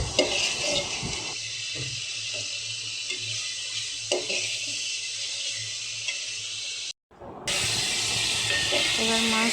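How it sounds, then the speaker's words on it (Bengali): Rohu fish pieces go into hot spiced oil in a pan, setting off a steady loud sizzle and hiss with occasional stirring clatter, a short pause, then the frying hiss resumes strongly. "এখন মাছ দিয়ে দিব।"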